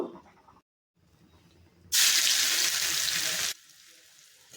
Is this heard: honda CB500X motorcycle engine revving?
no